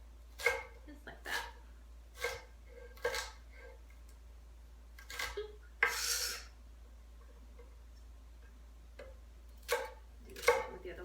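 A knife chops a chili pepper on a cutting board in sharp, irregular knocks, about nine or ten quiet strikes spread out over a steady low hum.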